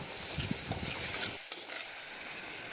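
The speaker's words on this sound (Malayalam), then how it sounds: "ഇനി അതിലേക്ക് കഷ്ണങ്ങളാക്കി വെച്ചിരിക്കുന്ന തക്കാളി ചേർത്ത് കൊടുക്കാം" Chopped tomatoes hitting a hot pan of coconut oil for a prawn curry, a close, steady sizzle with a few stirring scrapes early on, then a softer fry.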